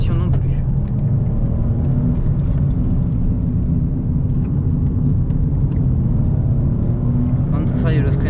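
A 2021 Toyota Yaris 1.0 VVT-i city car takes a run of curves, with a steady loud low engine and road rumble throughout and a few faint rattles on top.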